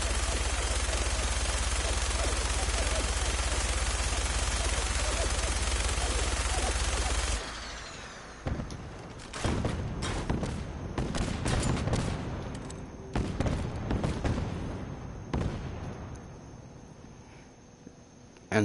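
A video game gun firing many shots. It opens with a long dense, loud roar of continuous fire, then breaks into scattered sharp bursts and single shots that grow sparser, with little talk.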